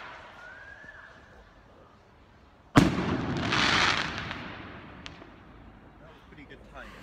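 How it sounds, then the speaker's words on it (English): Bonfire Night fireworks burst above All Souls in Oxford with one sudden loud boom followed by a long rumbling, crackling decay and a fainter pop, heard from a distance outdoors over low background noise. "there's fireworks happening above All Souls, right there, like this"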